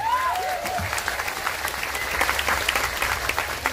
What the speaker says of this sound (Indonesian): tepuk tangan untuk NO Taiwan